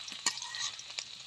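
Garlic sizzles and crackles in salted oil in a pan for pasta, with soft stirring scrapes and little pops, close and fairly quiet, with no voices.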